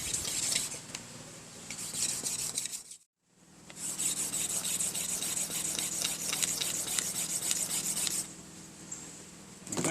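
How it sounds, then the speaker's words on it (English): Swiss Army knife blade scraping bamboo into a tinder bundle outdoors: continuous close, raspy scraping in rapid repeated strokes, broken by a brief pause before resuming steadily. "scrape up a big old tinder bundle."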